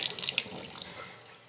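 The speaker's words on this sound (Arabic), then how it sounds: "الميه نازله حلوه كتير ازاي." Water pours steadily from a repaired kitchen faucet into a sink, a bright splashing rush up close that fades off after about a second.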